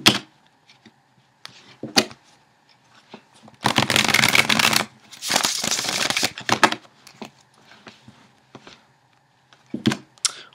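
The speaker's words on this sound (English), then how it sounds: "And shuffle." Tarot cards being shuffled in several bursts, crisp riffling and flicking, with two longer loud riffles in the middle and short taps between, close up.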